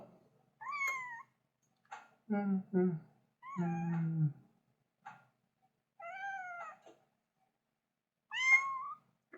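A young kitten gives several high, rising meows spaced across the stretch, close to the mic, while a person's voice speaks softly in short bursts between them.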